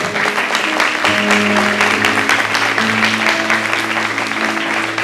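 Congregation applauding in a church during an energetic worship service, steady loud clapping layered over sustained music tones and a low hum.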